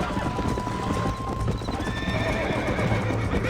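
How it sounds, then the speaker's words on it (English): Horse galloping in the PC version of the video game Red Dead Redemption, its steady clip-clop hoofbeats loud and continuous, with a whinny and faint background tones. "You're gonna wear that horse out!"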